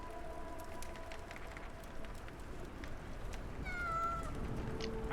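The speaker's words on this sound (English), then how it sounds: "A cat, alright." A cat meowing in the video game Sherlock Holmes: The Awakened, a few short meows rising over a steady harbour ambience, with a clear drawn-out meow near the end.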